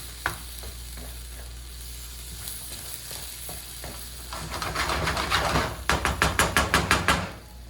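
Green pepper, black bean and beef sizzle in a frying pan while a utensil scrapes and stirs, the stirring growing busier and louder into a series of quick, rhythmic scrapes.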